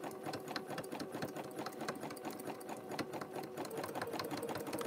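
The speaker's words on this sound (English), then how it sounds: "Between my hand and this sewing machine, I don't know which worse." An old domestic sewing machine runs steadily at a quick, even stitching rhythm, close but fairly quiet, with no talking over it.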